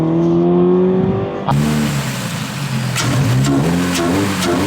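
A Toyota 86 fitted with an MST V2 intake accelerates with a deep, throaty engine note. The close, steady drone rises in pitch, with a brief break near the start as it shifts.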